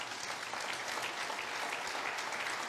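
Church congregation clapping together in sustained, dense applause, steady and fairly loud throughout with no pauses.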